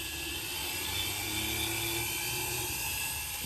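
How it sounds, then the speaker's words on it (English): A high, steady whine of a small rotary tool sanding a wood carving of a lobster, grinding continuously, close and fairly loud, with no talking. "See, we're sanding it in."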